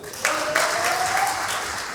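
Applause from a live stage comedy audience, a steady wash of many hands clapping at moderate distance with a few louder bursts, lasting the whole moment.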